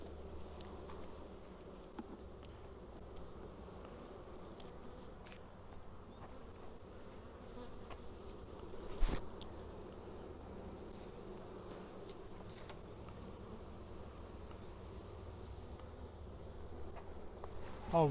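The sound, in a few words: honey bees buzzing at a beehive inner cover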